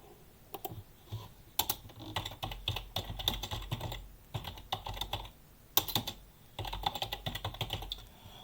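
Quiet bursts of clicking keystrokes on a computer keyboard, typed in uneven runs with short pauses between, close and fairly soft, with no talking.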